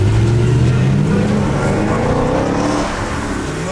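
A powerful sports car accelerates hard close by, its engine revving with a steadily climbing pitch over a few seconds, loud and continuous with no talking.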